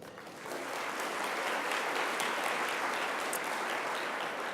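Steady audience applause at an Earth Day breakfast, a dense wash of many hands clapping at moderate distance with no voices.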